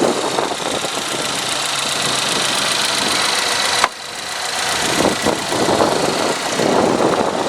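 A 2013 Chevy Equinox LS with a 2.4-liter four-cylinder engine runs steadily nearby, a continuous mid-pitched idle hum with light ticking and a brief dip partway through.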